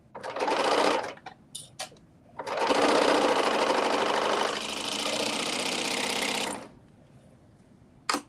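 A sewing machine stitches a Roxanne dress, first in several short loud bursts and then in one long steady run of rapid mechanical whirring that shifts slightly in tone before stopping.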